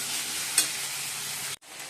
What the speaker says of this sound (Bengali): আর এদিকে পেঁয়াজ টমেটোটা ভেজে দিচ্ছি